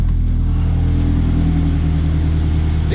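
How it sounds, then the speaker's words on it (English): The 2.0L Subaru boxer engine in a wrecked 2013 Scion FR-S with Lambo doors runs at a steady idle, heard loud and close as a continuous low, pulsing drone without talking. "There is the Subaru motor running extremely well. I'm going to step out here so you guys can hear it."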